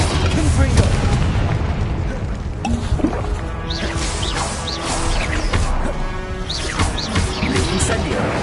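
Blasting Confringo spell explosions in Hogwarts Legacy go off in a dense, noisy battle, with repeated booms and crackling bursts over constant combat clatter.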